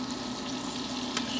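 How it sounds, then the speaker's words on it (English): Onions frying in rendered brisket fat for chili, a continuous close sizzle and crackle with one brief scrape of stirring, and no speech. "We're gonna use the same fat to cook the onions."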